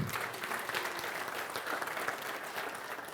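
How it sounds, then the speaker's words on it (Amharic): Church congregation applauding during a teaching service, a steady, dense wash of clapping from many hands that holds throughout without a break. "አጨብጭቡ።"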